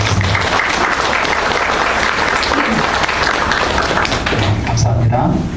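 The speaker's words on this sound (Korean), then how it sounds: "수고한 우리 수옥 씨에게, 그리고 이 풍성한 열매를 주신 우리 하나님 아버지께 우리 감사의 박수를 드리고 시작하겠습니다." Sustained applause from a congregation during a church service, steady and dense throughout with voices mixed in underneath.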